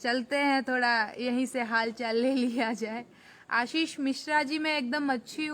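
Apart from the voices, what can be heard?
No everyday noises stand out.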